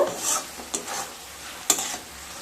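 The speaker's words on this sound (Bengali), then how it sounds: "এবার খুব ভালোভাবে মিশিয়ে নেব।" Raw mustard oil is mixed into a sheem paturi (flat bean and mustard) mixture in a pan, with a soft, brief, sizzling stir and a couple of sharp scraping strokes, close and without speech.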